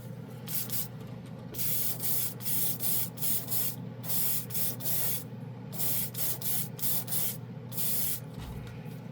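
An airbrush lays down military-colour paint in a rapid series of short hissing bursts with brief pauses between them, close and fairly even in loudness.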